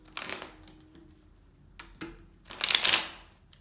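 Tarot deck being shuffled by hand in bursts of riffling card noise, a short flurry at the start, a few crisp taps in between and a louder, longer shuffle near the end, close and clear with no talking.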